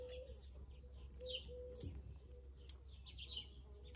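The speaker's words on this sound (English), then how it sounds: "You can listen to all the sweet birds." Birds chirp softly outdoors in the background, a few faint scattered calls over a low steady hum, with no talking.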